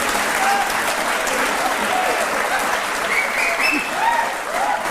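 Studio audience applause on a televised courtroom-style talk show, a sustained wash of clapping held steady for several seconds, with a few whoops and cheers rising through it.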